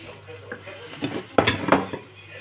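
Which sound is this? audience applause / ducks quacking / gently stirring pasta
gently stirring pasta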